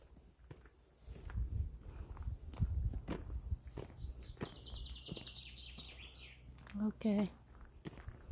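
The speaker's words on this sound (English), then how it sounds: "You can hear the birds chirping." Birds chirp in the Italian countryside, a quick burst of high twittering in the middle and a few calls near the end, over closer footsteps and rustling.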